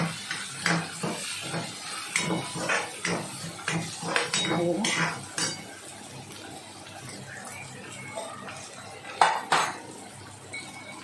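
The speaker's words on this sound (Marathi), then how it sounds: "तर चांगलं व्यवस्थित असं परतून घ्यायचं आहे" Onion and tomato sautéed in a pan with salt, heard as busy clinks and scrapes of a metal spoon against the pan and soft sizzling, tapering to quieter stirring with a few sharp knocks near the end.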